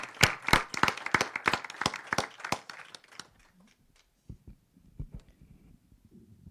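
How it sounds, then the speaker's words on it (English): Dense audience clapping at a financing summit press conference on divestment, loud and brisk for about three seconds before thinning into a few scattered claps and quiet shuffling. "I would like to invite us to offer a round of applause for the FIC Council of North America."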